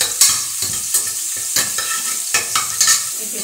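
Oil crackles and sizzles steadily as cloves, star anise, cardamom and bay leaves fry, with stirring scrapes and soft knocks breaking in every half second or so.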